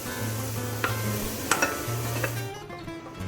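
Onions caramelizing in a pan for brinjal biryani, a continuous sizzle with occasional sharp spoon taps and scrapes as they are stirred.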